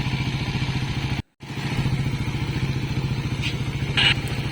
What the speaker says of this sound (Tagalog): naglinong na aton ang makina, nagbalik na ang aton nga normal nga hunis ang motor